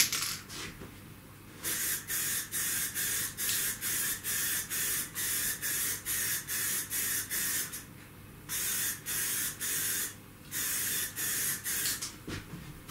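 Short, evenly spaced hissing bursts from a Plastidip aerosol can applying a light dusting coat to a speed shape, about a dozen close sprays with brief pauses between them and no talking.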